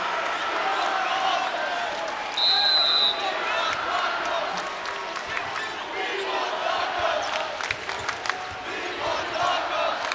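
Crowd in a basketball arena cheering during a Gonzaga vs BYU college game, a sustained roar with rising shouts and scattered claps, voices mixed through the noise.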